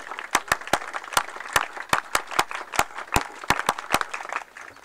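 An audience applauds at an Independence Day celebration at a design institute in Madhya Pradesh. Sharp, separate claps ring out steadily for about five seconds over a dense bed of clapping from the hall, without speech.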